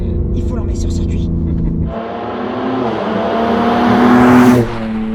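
A BMW M3 G80 tuned past 700 hp accelerates hard, its engine note rising steadily and loudly from inside the car, with people talking over it near the start.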